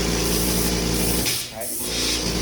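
A Graco FinishPro II 395 paint sprayer blasts a loud, continuous hissing spray up close, with a short dip in the middle before the steady rush resumes, and a voice is faintly audible beneath it.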